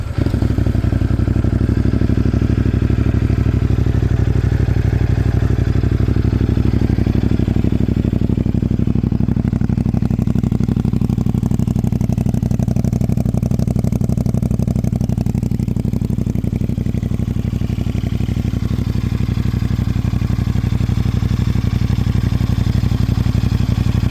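A CFMoto 450NK motorcycle engine runs at a steady, loud, close-up idle with a low throbbing rumble and light mechanical clatter, holding even and unbroken throughout with no voices.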